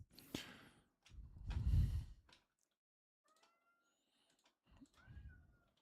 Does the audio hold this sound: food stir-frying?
no